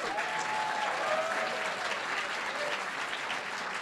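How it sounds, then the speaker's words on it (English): An audience at a California 48th District congressional debate applauds a fact-checking team with steady, dense clapping that holds at an even level throughout, with a few faint tones running underneath. "Finally, I would like you guys to give a round of applause to Andrea and her fact-checking team."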